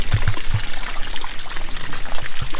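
Irrigation water trickles steadily from a pipe as pressure builds, a close, continuous wet hiss with a few soft low thumps near the start.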